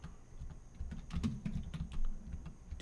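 Rapid typing on a computer keyboard, a fast irregular patter of close, quiet key clicks lasting a few seconds, no voices.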